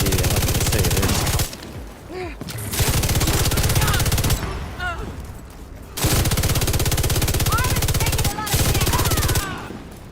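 A light machine gun firing in The Division 2 rattles out in long, loud, continuous automatic bursts, broken by short pauses before each new stream of fire.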